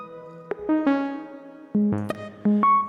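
A modular synthesizer FM patch plucks a sequence of bright, metallic tones that step between pitches in an uneven pattern, each note starting sharply and ringing briefly.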